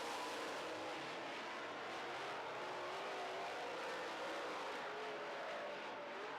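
Late model race cars roar around a track during heat races, a steady, dense engine drone that stays loud and unbroken throughout with no clear individual passes.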